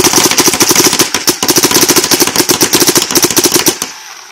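A Dangerous Power G5 paintball marker shoots a rapid, even string of sharp pops at a wet cardboard box. The close, loud volley runs for nearly four seconds and then stops abruptly.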